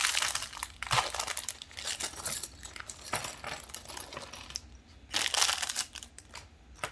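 A plastic Lego Vidiyo blind bag torn open and handled close up, a continuous stream of sharp crinkling and rustling that rises and falls for several seconds, briefly easing before a final burst of crackling.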